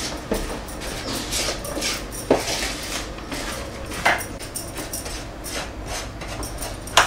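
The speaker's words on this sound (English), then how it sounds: "So now we just mix it up. Make sure you evenly mix everything up." Ingredients are stirred in a bowl, giving scattered scraping and occasional sharper clinks of a utensil against the bowl, close and fairly quiet with no talk.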